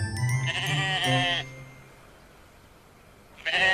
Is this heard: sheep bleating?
yes